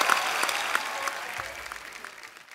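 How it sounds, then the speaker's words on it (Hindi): A studio audience applauds on a comedy show, with a brisk burst of many hands clapping that gradually fades out over a couple of seconds. "मेरे दोस्त के लिए जोरदार तालियां पहले तो।"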